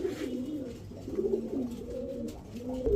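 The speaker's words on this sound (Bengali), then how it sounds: "এখন দেখাবো আনার চোখের একটা সবজি রেসার নর কবুতর" Racer pigeons cooing, repeated low throaty coos rolling in short phrases, close and clear over faint background noise, with no speech.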